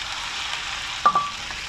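Squid stir-fries with holy basil in plenty of oil, giving a continuous close sizzle with a couple of sharper crackles and a stirring clatter partway through, with no talking.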